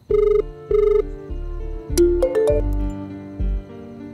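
A telephone rings in a tense Tamil crime drama scene, the electronic ring pulsing in two loud bursts with gaps, followed by a swell of dramatic music and another short burst.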